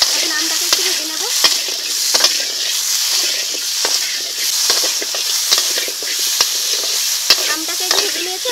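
Mutton with a little turmeric sizzles loudly in a hot pan while a spatula stirs and scrapes it in repeated sharp strokes, a continuous hiss of frying running throughout and no voices.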